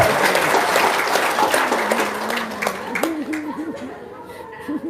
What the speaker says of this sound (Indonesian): Tepuk tangan dong, Bapak.